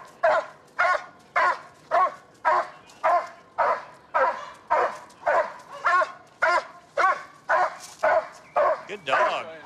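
A police K9 dog barks during an arrest in a fast, regular series of loud, close barks with no letup, while voices talk underneath.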